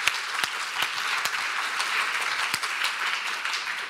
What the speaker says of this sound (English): And also one big applause for the people who have been working most hardly yesterday and today, and they are the translators.